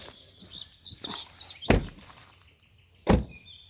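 Small birds chirping near an old house, a few faint high tweets early on, broken by two loud thuds like a door banging, with no talk.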